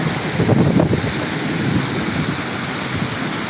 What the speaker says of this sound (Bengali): প্রচণ্ড বাতাস বইছে